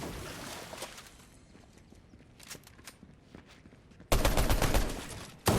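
Gunfire in a Fortnite Chapter 5 fight, a scattered series of sharp shots and impacts at moderate level, ending in a sudden loud, dense burst of rapid firing.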